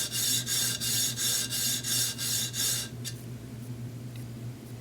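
A thin aluminum Wahl 5-n-1 adjustable clipper blade is sharpened by hand, with eight steady rasping strokes in an even rhythm that stop abruptly, followed by a quieter pause.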